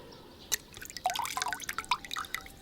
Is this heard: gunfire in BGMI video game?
no